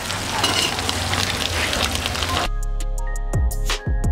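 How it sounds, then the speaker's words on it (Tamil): Eggs frying in oil in a pan, a dense loud sizzle for a few seconds before it cuts to quieter tonal clinks and scrapes. "எக் மேலே இருக்க லேயர் வந்து நல்லா ஃப்ரை ஆகி பர்ஃபெக்டாக இப்போ ரெடி ஆயிடுச்சு"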